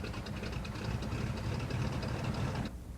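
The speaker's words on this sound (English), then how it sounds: "When you're ready to start the engines, clear the area around both propellers as well as around the entire airplane." Two aircraft engines on a twin-engine airplane run steadily at close range, a continuous low rumbling drone with a faint high whine that cuts off abruptly near the end.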